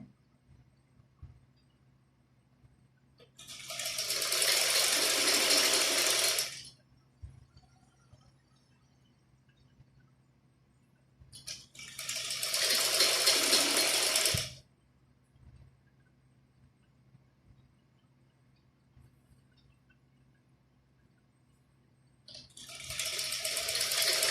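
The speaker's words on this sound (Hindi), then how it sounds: "बिल्कुल किनारी किनारी पे ये टांका लगाना होता है।" An electric sewing machine stitches along the edge of a salwar in three separate runs of steady, fast, whirring stitching, each a few seconds long, with quiet pauses and a faint low hum between them.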